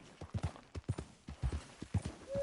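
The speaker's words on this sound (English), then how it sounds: "Hitch your horse up here." Horse hooves clip-clop in Red Dead Redemption 2 at a steady walking pace, close by and crisp, with no other sound around them.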